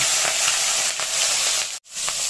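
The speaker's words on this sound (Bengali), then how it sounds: "অল্প অল্প করে মাছ দিয়ে মাছগুলোকে আমি ভেজে নেব।" Small mourola fish frying in hot oil in a wok, a loud, close, steady sizzle and hiss with faint stirring, cut by a brief moment of silence.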